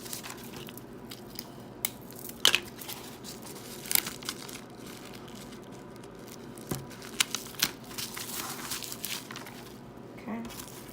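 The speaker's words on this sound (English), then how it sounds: "you just lift it and you put more tape down" Tape is laid down and pressed onto a plastic poly mailer, giving quiet, scattered crinkles and sharp little crackles at close range.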